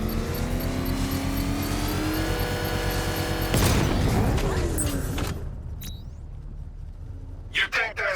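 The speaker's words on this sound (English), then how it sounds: "I can use the power winch to trigger a controlled explosion" In Batman: Arkham Knight, a power winch triggers a controlled bomb explosion. A loud broadband blast bursts in around the middle over steady engine and music drone, then fades into quieter debris and rumble with a few sharp late hits.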